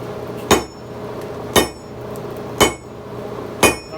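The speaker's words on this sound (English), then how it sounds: "Today we're going to forge a Hardy tool for this anvil." Four evenly spaced, loud hammer strikes ring on an anvil while forging a hardy tool from square steel stock, each blow about a second apart with a short metallic ring and no talk.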